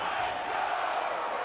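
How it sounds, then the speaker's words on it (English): Home crowd at a Jacksonville Jaguars versus Tennessee Titans NFL game, a steady dense roar of stadium noise heard from a distance, without a break. "The crowd's not doing that O-line any favors."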